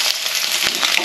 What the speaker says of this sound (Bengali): দিয়ে দেবো হলুদ গুঁড়ো, লবণ, দিয়ে ডিমগুলোকে ভালো করে ভেজে নেব।